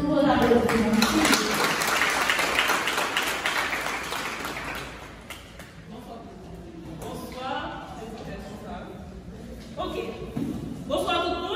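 An audience claps for a speaker at an International Women's Day gathering in Les Cayes, Haiti. The applause is sustained for several seconds, then fades as a voice begins speaking.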